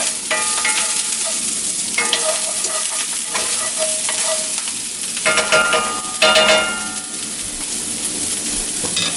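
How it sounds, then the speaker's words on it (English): Scallions stirred in a hot frying pan: a steady oily sizzle runs throughout, broken by louder scraping stirs of the utensil against the pan at intervals, close and with no talking. "we'll stir the scallions a little bit"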